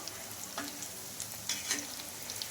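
A flattened rice (poha) snack shallow-frying on low flame in a pan as pieces are turned over, giving a steady crackling sizzle with a few brighter spits and light scrapes.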